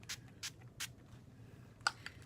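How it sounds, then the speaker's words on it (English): Three quick, soft hissing spritzes of Wet n Wild makeup setting spray at an even pace, then a faint click and a small rustle, close by in a quiet room. "finish this look with some Wet n Wild setting spray"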